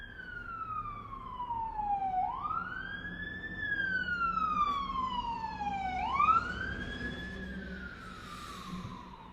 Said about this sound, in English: It's just fun to run a siren.